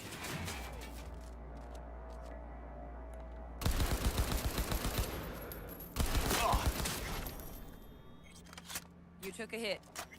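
Enemy gunfire in the video game Cyberpunk 2077: two dense bursts of rapid shots crackle loudly over a low game hum, then a few scattered shots follow near the end.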